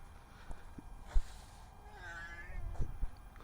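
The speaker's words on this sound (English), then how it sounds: "My cat." A pet cat meows once in a short rising and falling call near a C10 stepside truck, with some faint voices and light handling noise in the background.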